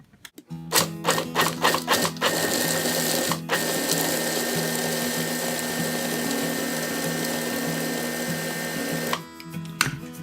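A food processor pulses a few short bursts, then runs in one loud continuous whir as nuts rattle inside, grinding them fine, before stopping with a final brief pulse.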